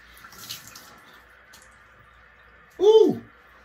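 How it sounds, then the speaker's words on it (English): Cold water splashed onto a face from a sink, one close, loud splash near the end after a quiet stretch with faint running water. "Oh, that is some cold water splash."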